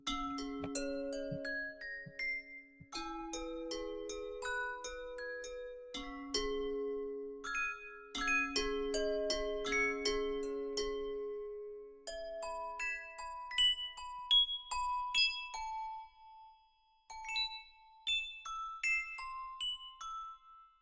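Quiet, glassy piano notes from a Clear Glass lo-fi plugin chime in a gentle, wandering melody, bell-like and sparkling, with each tone ringing out and fading.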